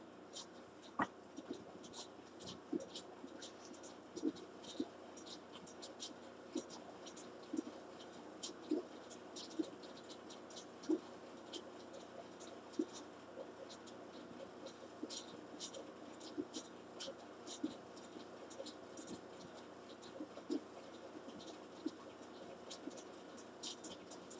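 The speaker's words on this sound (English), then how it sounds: "I just had to erase my pencil line" An eraser rubs out a pencil line on a scrapbook layout in quiet, repeated short scrubbing strokes, soft and close, with faint room hiss behind.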